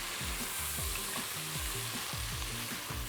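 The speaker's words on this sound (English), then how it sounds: "And give that a stir." Onions, garlic and ginger fry in a pot with a steady close sizzle, while a spoon stirs through them and taps the pot in a regular rhythm of low knocks, with no talking.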